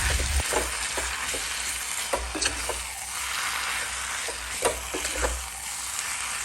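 Kerala style beef roast sizzling and frying steadily in a pan as its liquid cooks down, with occasional stirring scrapes and pops standing out over the constant hiss.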